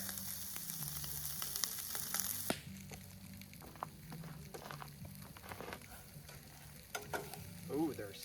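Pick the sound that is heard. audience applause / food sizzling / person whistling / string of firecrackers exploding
food sizzling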